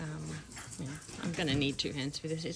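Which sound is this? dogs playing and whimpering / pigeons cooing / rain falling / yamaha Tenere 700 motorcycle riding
dogs playing and whimpering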